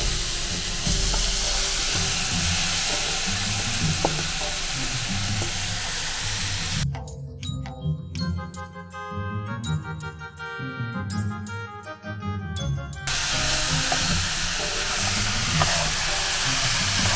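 Green chillies and raw mango sizzle loudly and steadily in hot oil as they are sautéed for mango thokku, a continuous dense frying hiss with occasional stirring.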